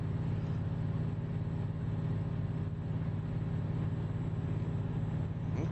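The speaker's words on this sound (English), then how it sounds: "Yeah, most definitely the truck sounds louder." A heavy truck engine in the Euro Truck Simulator 2 game drones steadily at speed, a loud continuous low rumble with no voices.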